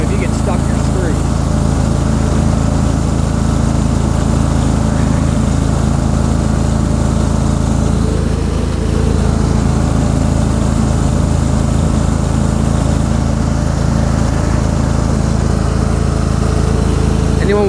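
A Cub Cadet GT2550 garden tractor, a machine with a weak transmission that lacks torque, runs its engine at a steady, loud, close-range drone through the whole stretch.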